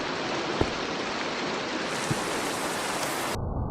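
Steady rain falls in a continuous, even hiss that fills the whole clip, with a couple of faint thumps and a sudden drop in brightness near the end.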